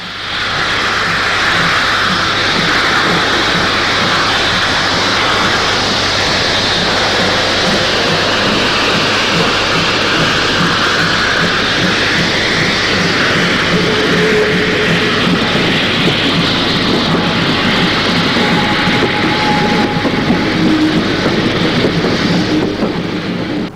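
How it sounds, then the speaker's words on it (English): Steam locomotive 01 2114 of East Germany sets off with a Berlin-bound train, a continuous loud broad rumble of steam and running gear with steady chuffing pulses throughout, no voices. "O12114 sets off with the train for Berlin."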